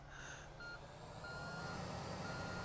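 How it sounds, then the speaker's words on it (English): A dump truck in Construction Simulator 2 sounds its reversing alarm, a few faint, evenly spaced electronic beeps over a steady engine rumble. "Let's get a dump truck."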